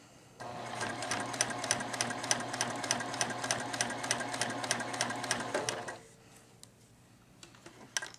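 A Juki TL-2010Q semi-industrial sewing machine stitches at a fast, steady rhythmic clatter for about five seconds, then stops abruptly, leaving a quiet room with a few faint ticks and clicks.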